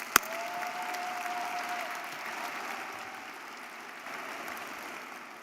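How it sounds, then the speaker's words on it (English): Graduates applauding at a December 2023 commencement ceremony, a distant, even wash of clapping filling a large venue, fairly faint and sustained, with a single sharp knock near the start. "Give yourself a round of applause, would you please?"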